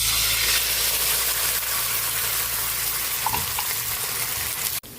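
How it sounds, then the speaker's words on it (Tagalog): Sardines and onions sizzle and crackle steadily in a hot pan, loud and close, with a brief clink near the end. "Kumukulo na yung ating ginisang sardinas."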